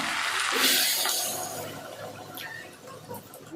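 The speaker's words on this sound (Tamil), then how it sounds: "இப்போ இந்த கருவாட்டு குழம்புக்கு தேவையான புளிக்கரைசல் வந்து நம்ம சேர்த்துக்கலாம்" Tamarind water is poured into a pot of dried-fish curry in a brief splashy gush that swells and then tapers off into soft trickles and drips.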